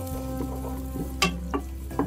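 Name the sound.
sliced onions frying in hot oil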